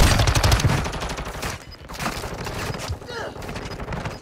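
Loud, rapid gunfire bursts in the Warzone 2 video game: dense automatic volleys at first, then sparser shots that fade out toward the end.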